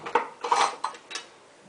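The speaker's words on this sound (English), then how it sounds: "your baking powder, and your salt, and mixing it all together." Dry baking powder and salt being stirred together in a bowl, giving a few short clinking and scraping taps of utensil against the bowl, close and fairly quiet, with no talking.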